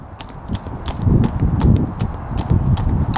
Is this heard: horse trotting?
yes